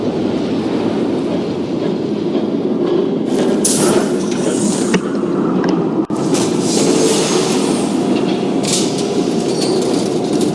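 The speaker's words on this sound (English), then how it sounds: "There's a train coming." A train rushes past in the Batman Telltale Series video game, a loud, continuous rumble of wheels and carriages with metallic clatter and faint squeals throughout, close and heavy with no voices over it.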